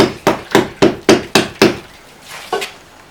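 Limestone being chopped while building a fireplace in a house, six sharp, evenly spaced hammer-like blows, loud and close, followed by a pause and one or two lighter knocks.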